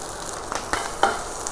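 Green chili, hot pepper and mushrooms frying in hot oil, a soft steady sizzle broken by a few short crackles and stirring clatters, close by with no talking.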